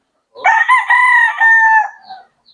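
A fighting rooster gives one loud, close cock-a-doodle-doo, rising and then drawn out, in an otherwise quiet setting.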